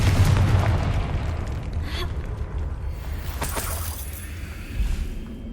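Confringo spell explosion in Hogwarts Legacy, a deep booming burst at the start that decays into a rumbling tail, with smaller pops and crackles following, fairly loud with no talk.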